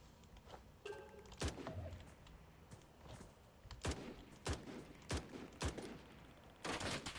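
Gunshots in the video game Blackhawk Rescue Mission 5, a series of sharp, loud single reports spaced irregularly, some close together, over a low background of game ambience with faint thuds.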